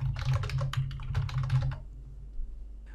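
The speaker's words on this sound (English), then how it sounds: "You can then type your text." Rapid typing on a computer keyboard while entering text in Microsoft Publisher 2016, a close burst of crisp key clicks over a low steady hum, tapering off after about two seconds.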